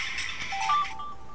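A short chime-like start-button sound from the iPod Touch marble game Super Marble Roll, lasting about a second with a bright tonal blip in the middle, faint and heard alone.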